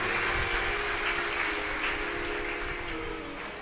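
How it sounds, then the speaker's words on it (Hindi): Audience applause at a live Shiv Mahapuran religious discourse in Varanasi, a dense steady wash of clapping from a large crowd that fades slightly toward the end, with no talk over it. "एक बार इनके लिए जोरदार ताली बजाए।"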